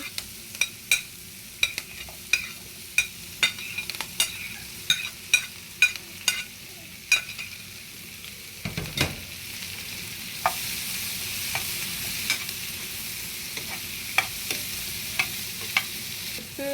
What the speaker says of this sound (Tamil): இதை லைட்டாக வதக்கி எடுக்க போகிறேன்